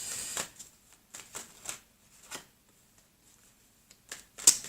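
Cards are shuffled in short, soft bursts of riffling and slapping with pauses between, close and quiet, for a sentimental tarot-style card reading.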